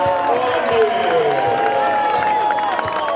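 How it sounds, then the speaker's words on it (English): Crowd cheering at a 2015 high school basketball shootout between DeLaSalle and Morgan Park, a loud sustained roar filling the gym with whistles and shouts, while an announcer's voice carries over it. "The crowd erupts."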